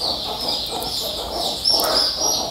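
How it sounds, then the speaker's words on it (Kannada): Big farm chickens clucking close by in a steady chorus of soft, repeated clucks and calls, with a louder burst of clucking partway through, over a high, constant background whine. "ನೋಡಿ, ಇವೆಲ್ಲ ದೊಡ್ಡ ದೊಡ್ಡ ಕೋಳಿಗಳೆಲ್ಲ ಐತೆ"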